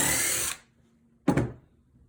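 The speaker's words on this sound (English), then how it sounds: "I'm going to drill in." A power drill fitted with a countersink bit bores into the wood of a birdhouse. It gives one loud whirring burst that cuts off, then after a pause a second short, sharp burst rises and fades.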